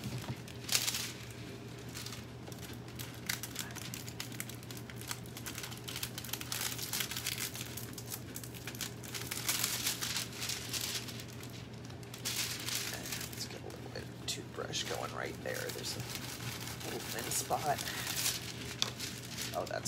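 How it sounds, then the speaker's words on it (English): Foil backing peeled from a planter gives continuous crinkling and tearing, close and fairly steady throughout, over a constant low hum, with a person talking intermittently. "that pulls nothing off except the foil"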